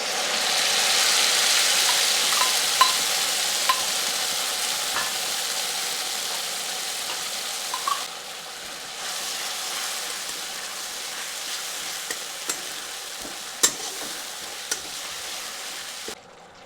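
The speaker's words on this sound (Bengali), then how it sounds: "তো সসটি দেওয়ার কিছুক্ষণ পরে এরপর দিচ্ছি চিকেন পকোড়াগুলো দিয়ে ভালো করে মিশিয়ে নিচ্ছি।" Chicken 65 pakoras frying and being stirred into sauce in a pan: a steady broad sizzle with scattered scraping clinks of a spatula, fairly close and continuous, with no talking.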